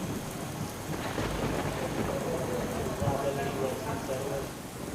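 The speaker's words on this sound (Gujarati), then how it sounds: "ધોધમાર વરસાદની શરૂઆત ત્યાં આગળ થઈ ચૂકી છે" Heavy monsoon downpour in Banaskantha, Gujarat, roars steadily and densely throughout, with a rumble of thunder rolling in near the middle.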